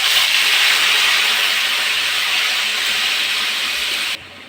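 Spinach greens hit a hot pan of fried onion and ginger for a bean and potato chorchori, releasing a loud, steady steamy hiss that cuts off abruptly near the end.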